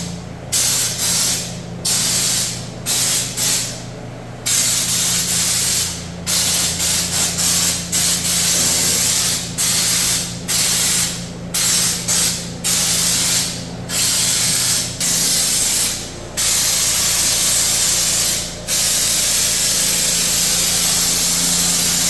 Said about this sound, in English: Now we shake it for like 2 minutes and then ready to spray.